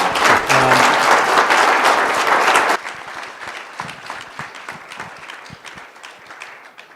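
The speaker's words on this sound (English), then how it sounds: "Everyone, round of applause for the senator." Loud, dense audience applause for Senator Mike Lee at a healthcare luncheon, sustained for a few seconds, then dropping abruptly to a thinner patter of scattered claps that trails on quietly.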